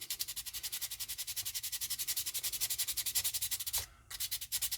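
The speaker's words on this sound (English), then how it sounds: "So we'll just take our sandpaper and" Sandpaper rubs a 3D-printed blaster grip in a steady, quick back-and-forth rhythm. The scratchy strokes are soft and close, with one brief pause near the end.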